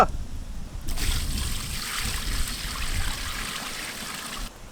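Water streams steadily into a pan of chopped mutton and spices for several seconds, a close, continuous pouring rush that starts abruptly and stops near the end.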